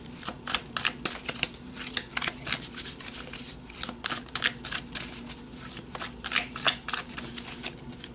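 Tarot cards shuffled by hand in a long run of quick riffling snaps and flutters, close and steady with short pauses, no talking.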